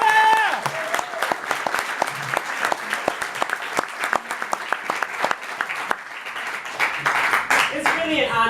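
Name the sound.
audience applause for women panelists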